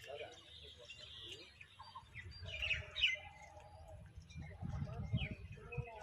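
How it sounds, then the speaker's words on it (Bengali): Birds chirp and call outdoors in the grounds of Katra Masjid in Murshidabad, with scattered tweets over a low rumble of wind and distant activity. The calls are moderately faint and continue through the whole scene. "কত সুন্দর পাখিও ডাকছে,"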